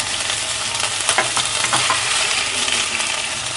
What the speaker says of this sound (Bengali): এখন অ্যাড করে দিচ্ছি আমি শুটকি। এটা একটু ভেজে নিচ্ছি